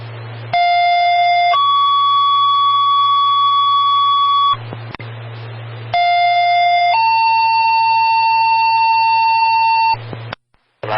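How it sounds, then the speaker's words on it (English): Loud fire dispatch alert tones sound over a radio for a second alarm at a structure fire: two sequences, each a steady tone that steps to a second pitch and holds for several seconds, over a constant low hum. "This is the second alarm tone for 188 Green Hill Road."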